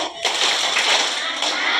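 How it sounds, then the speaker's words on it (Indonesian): Children and teens in a catechism class clap a rhythmic clap chant together, producing a dense, bright clatter of many hands that holds steady for about two seconds at fairly close range. "Tepuk mantap, Besti."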